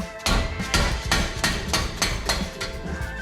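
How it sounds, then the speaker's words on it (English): Sharp metallic hammer-like blows from a wrench being struck to loosen brake caliper bolts on a 2018 Acura TLX, about seven loud evenly spaced impacts over a few seconds with ringing decay, no talking. "this will be my impact hammer"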